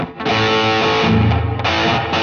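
An electric guitar played through a Nux Amp Academy on a drive scene rings out in loud, distorted sustained chords that change once or twice, with thick saturated tone and no voice.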